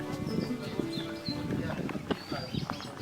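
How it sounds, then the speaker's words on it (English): Horses' hooves clip-clopping at a tourist spot, a loose stream of knocking steps close by, mixed with voices talking and other ambient chatter. "Such cute horses."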